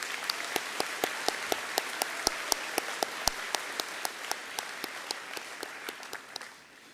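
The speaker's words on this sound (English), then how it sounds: "Let's have a round of applause for all the graduates." Applause for graduates at a collegiate graduation ceremony, heard as a rhythmic series of distinct, evenly spaced claps that carry steadily, then trail off at the end.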